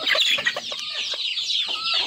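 Native country chickens in a coop cluck continuously, several birds overlapping in busy, close, moderately loud chatter.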